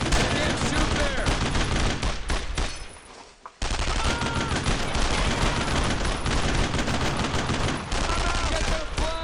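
Battlefield gunfire in Brothers in Arms: Road to Hill 30, with rapid overlapping rifle and machine-gun shots and a brief lull before heavy firing resumes, under scattered shouting.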